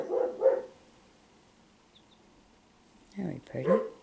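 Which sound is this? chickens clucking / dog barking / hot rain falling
dog barking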